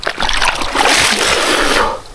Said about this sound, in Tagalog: Oh, ang laking alon. Ang laking alon guys.